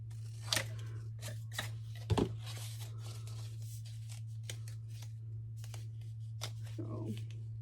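Scissors snipping through paper for an ephemera box craft, a handful of sharp, separate cuts spread through the clip over a steady low hum, with no talking.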